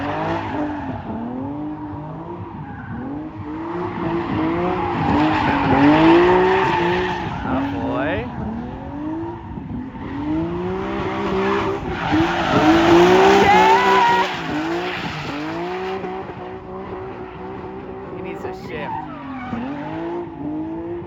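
A drift car spins a donut, its tires skidding and squealing in long sweeping waves over a revving engine, loud and close, while people talk over it.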